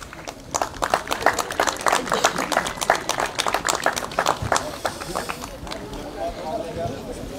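A crowd claps steadily and densely as the two teams enter a French élite cécifoot (blind football) championship match between Précy-sur-Oise and Bordeaux. The applause tapers off toward the end, with voices underneath.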